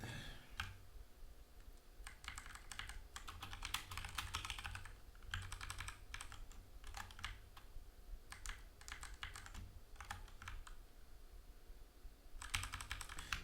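Someone types on a computer keyboard in quick bursts of clicking keystrokes separated by short pauses, fairly quiet and close, with no talking.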